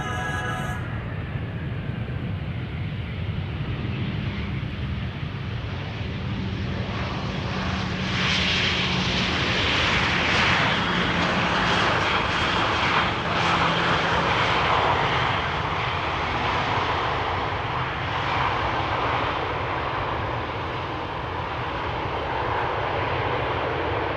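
An Air Arabia airliner arrives at Amsterdam Schiphol Airport, its engine roar building to a loud, broad rumble midway and staying strong as it passes near.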